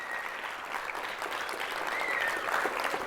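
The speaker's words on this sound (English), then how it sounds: "Give them a round of applause." Audience applauding corporate sponsors at a national school drone race event, a full, even burst of many hands clapping with a faint murmur of crowd beneath.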